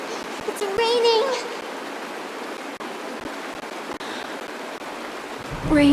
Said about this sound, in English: Mommy, the rain! It's raining!